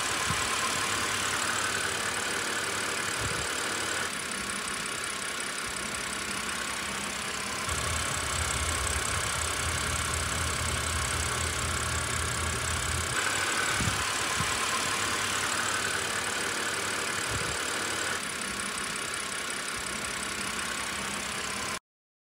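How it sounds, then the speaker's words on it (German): Car engine idling steadily before and after adding an oil additive, a continuous mid-range hum with low rumble and faint ticking, close up and alone with no talking. "Vorher, nachher Sounds zu machen, wie der Motor klingt, mit und ohne"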